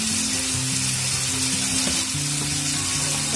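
Garlic-ginger paste and cumin fry in hot oil for lauki kofta gravy, a loud, continuous close sizzle with faint stirring and a steady hum underneath, no voices.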